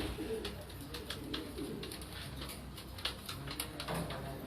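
Golden flying pigeons cooing in a loft, soft repeated coos and low bird calls against a steady background hum, with faint pattering and rustling throughout.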